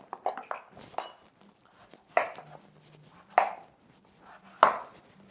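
A knife chops through butternut squash on a board, cutting it into big cubes for puree: a handful of sharp, separate thunks spaced about a second apart, close and clear with quiet pauses between strokes.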